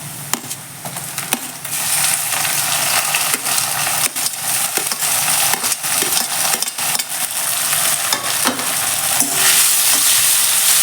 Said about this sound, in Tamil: வெங்காயம் வதங்கிடுச்சு தக்காளி பச்சை மிளகா சேர்த்துக்கலாம்